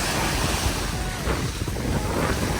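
Ocean surf rolls onto an island beach in the Maldives, a loud, steady wash of breaking waves mixed with wind buffeting the microphone, with no voices.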